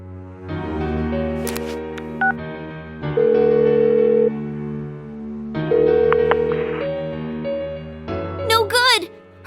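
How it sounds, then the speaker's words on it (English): Phone call being placed in the video game Persona 4 Golden, steady repeated ringback tones in two stretches over game music, with a chirpy electronic sound at the end. "Give her another call."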